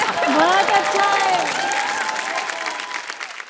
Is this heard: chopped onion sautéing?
no